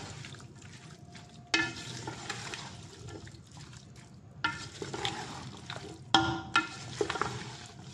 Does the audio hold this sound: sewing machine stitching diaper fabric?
no